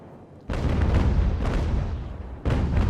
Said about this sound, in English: I love how this side is still shooting at this guy.